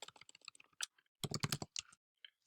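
Computer keyboard being typed on while writing code, with close, crisp keystroke clicks in quick irregular bursts, a short pause, then a denser run and a few last taps.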